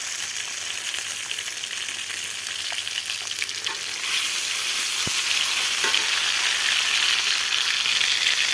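Cumin paste and garlic paste hit a hot pan where fish pieces have just fried, giving a dense, loud sizzle that swells noticeably partway through, with occasional stirring scrapes and no talking.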